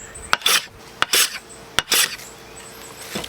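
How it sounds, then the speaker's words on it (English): A hand plane cleans up the rough faces of a square wooden peg for Japanese timber framing, with three short rasping strokes in steady rhythm, each beginning with a sharp tap, close and fairly quiet. "Let's just give this a quick planing on all 4 sides."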